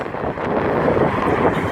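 Steady wind blowing hard across the microphone outdoors among buildings in Ängelholm, Sweden, a continuous broadband rush with slight gusty swells throughout.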